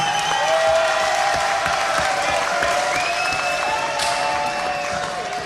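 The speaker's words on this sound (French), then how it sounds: "avec vos applaudissements" An audience applauds at a spelling championship after a contestant's score is announced. The clapping is steady, dense and fairly loud throughout and tapers slightly near the end, with tonal sounds running over it.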